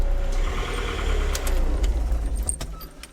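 A BEW TDI diesel engine swapped into a TJ Wrangler runs with a low, steady rumble, heard up close, with some light metallic jingling and clicks over it.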